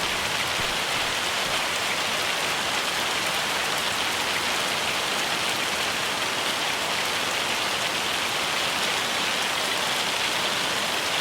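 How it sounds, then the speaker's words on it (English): Summer hail in Farming Simulator 25 drums in a loud, unbroken hiss of dense impacts that stays steady and fills the whole stretch without any voices. "I don't know if you can hear me over the hail. It's really loud and annoying, and it won't stop."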